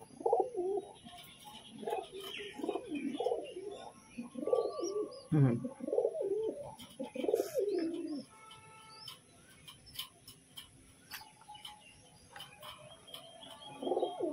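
Pigeons coo in soft, repeated low throbbing calls close by while pigeon chicks are hand-fed, with a brief murmur from a person and faint chirps and clicks around them.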